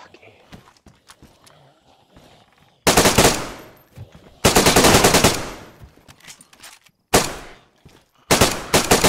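Full-automatic rifle fire in the video game DayZ, several long, loud bursts that empty a magazine, with short quiet gaps between them and faint background noise.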